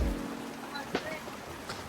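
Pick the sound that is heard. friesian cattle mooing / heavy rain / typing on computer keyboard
heavy rain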